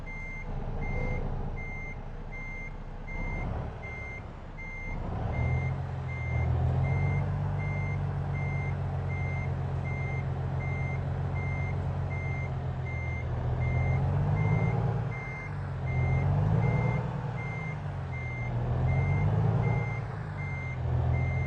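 Reversing beeps repeat steadily from a truck backing a trailer into a spot in American Truck Simulator, loud and continuous over a deep diesel engine rumble that swells as the rig maneuvers.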